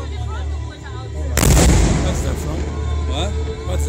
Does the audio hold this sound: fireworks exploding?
yes